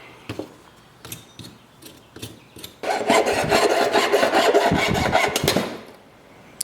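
A knife scrapes flesh off a turkey wing bone. A few short rasps come first, then a steady, close, gritty scraping runs for about three seconds before stopping.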